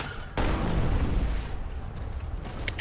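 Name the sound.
Reinhardt Earthshatter ground slam, Overwatch video game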